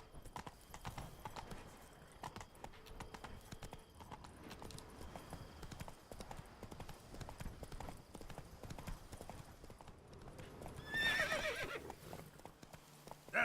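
Roach the horse from The Witcher 3 clip-clops along at a steady trot, hooves thudding continuously, then lets out a loud whinny near the end; no one talks over it.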